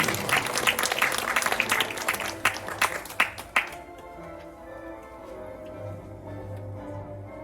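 Audience applause at a reading essay award ceremony, a burst of sharp individual claps for about four seconds that abruptly stops, leaving quiet room tone.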